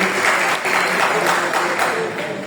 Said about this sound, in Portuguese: um aplauso à missionária, irmão